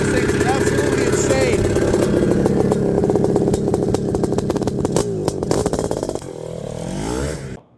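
A Honda CR500 two-stroke motorcycle engine, a tribute to a 1978 Honda RC500 factory racer by Denton Engineering, runs loud and close with a raw, rattling idle and sharp revs, then tapers off near the end.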